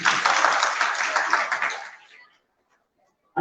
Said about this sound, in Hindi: कोमल के लिए जोरदार तालियां।